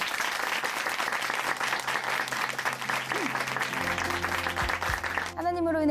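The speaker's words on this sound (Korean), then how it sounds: "다시 한번 박수 보내드릴게요." Congregation members of a church applaud after a testimony on a Christian broadcast program, a dense sustained round of clapping that continues steadily before a voice begins talking at the end.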